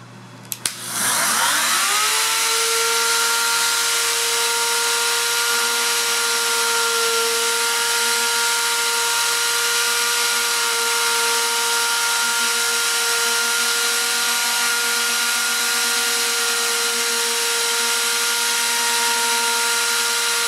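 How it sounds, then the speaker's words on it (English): A Freud trim router cuts shallow grooves in wood. The motor spins up quickly to a loud, steady high-pitched whine and holds it close and constant for the rest of the clip, with no talking. "This is a Freud router. It comes with, it's a trim router."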